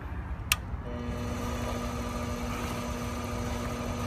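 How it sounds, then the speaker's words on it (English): A micro lathe spins at speed with a steady mid-pitched motor hum and whine, preceded by one brief sharp click near the start, close and continuous with no talk. "This works pretty good on a micro lathe."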